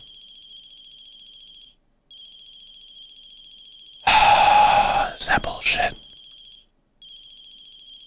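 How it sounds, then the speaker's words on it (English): Phone ringtone in the horror game The Closing Shift chimes in a steady repeating electronic pattern with short pauses, interrupted midway by a man's loud, exasperated voice before it resumes ringing. "It's not gonna stop ringing."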